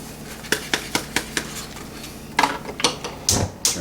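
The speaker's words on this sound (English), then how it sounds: "Stir everything up." Metal spoon repeatedly scraping and clinking against a pot while stirring grape jelly ingredients with butter and Sure Gel, a steady run of sharp close taps followed by a busier, louder cluster of knocks.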